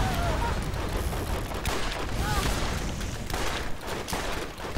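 Loud, sustained shooting from an explosive revolver in the video game Borderlands, with booming impacts layered over constant battle noise and brief game voice effects.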